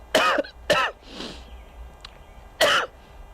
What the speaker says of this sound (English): I've been coughing for a couple days.